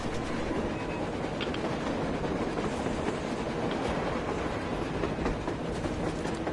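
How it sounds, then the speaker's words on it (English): A video game train rumbles past steadily with a dense rattling clatter of wheels on track, continuous and fairly loud throughout. "A train! A damn train on the surface!"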